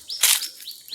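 Birds calling in hill forest where jungle fowl live: short high chirps and a rising whistle repeat, with a brief louder rustling burst near the start, fairly faint and without talk.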